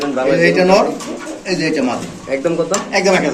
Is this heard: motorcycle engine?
no